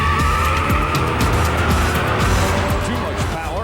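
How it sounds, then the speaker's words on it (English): A 1971 Corvette with an LS6 big block roars down a drag strip while spinning its tires, loud engine drone mixed with squealing tire noise, and a voice talking over it. "Too much power and not enough traction haunts the big block as it spins its tires halfway down the track."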